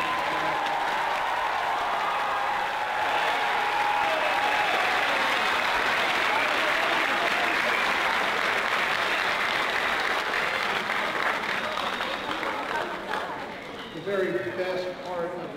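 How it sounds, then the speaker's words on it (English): An audience at an eighth-grade moving-up ceremony applauds in a sustained, even wash of many hands that lasts over ten seconds before thinning out, and a voice comes in near the end. "Let's have a round of applause."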